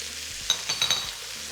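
Pork pieces for charro beans fry in a seasoned pan with a soft, steady sizzle, and a few brief stirring scrapes and clinks land near the middle.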